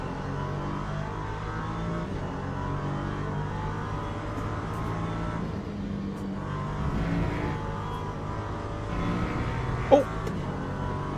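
LMP3 prototype race car engines in the Le Mans Ultimate sim racing game at Silverstone, a steady droning engine note with gear shifts and faint shifting pitch throughout, no voices.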